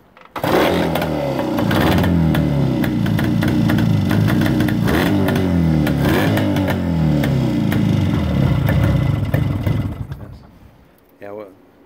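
A 1965 Cotton Messenger 325cc motorcycle starts hot and runs, its engine barking into a loud, steady throb with blips of revving close by, then cutting off abruptly near the end.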